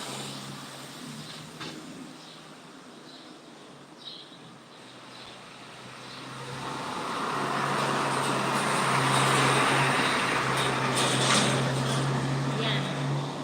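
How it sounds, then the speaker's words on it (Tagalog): Vehicles passing on a road through a hillside area, a quiet stretch swelling into a loud close rumble of a large vehicle going by, with faint talk early on. "Puro sasakyan ang nagdanan dito."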